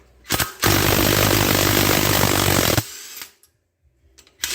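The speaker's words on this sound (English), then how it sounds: "so we can take these guys back out" A power impact tool backs lug bolts out on a 1958 Oliver 550 tractor, giving one loud, close, sustained rattling burst of about two seconds. Shorter blips come before and after it.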